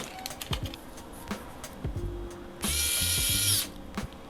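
Small electric screwdriver driving tiny M1.6x5 screws to mount a Flywoo O3 Lite air unit, one loud whirring burst of about a second amid close clicks and handling taps on small parts.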